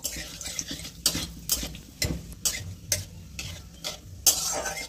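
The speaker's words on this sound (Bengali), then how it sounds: "ফোড়নটা একটু ভেজে নেব" Black cumin and two dried red chillies frying in mustard oil in a pan, a quiet sizzle punctuated by several sharp stirring clicks of a spoon against the pan, with no talking.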